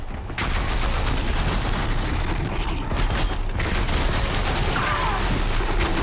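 Explosions and bursts of gunfire-like booms fill a Horizon Zero Dawn fight, a dense, continuous barrage of loud impacts with no pauses.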